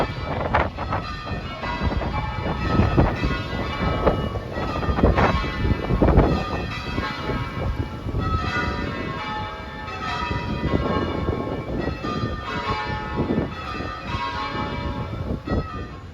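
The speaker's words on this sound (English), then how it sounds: "look at that church at the very end of the street there" Church bells ringing out along a street in Charleston, South Carolina, a steady overlapping peal of repeated strikes continuing throughout, with wind noise buffeting the microphone.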